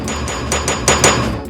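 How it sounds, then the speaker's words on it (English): A knockoff LEGO-style hammer with a rubber end strikes plastic bricks in a series of close, sharp taps, with several distinct knocks standing out in quick, uneven succession. "It's useful for securing bricks together, and it has a rubber end to not damage pieces while smashing them."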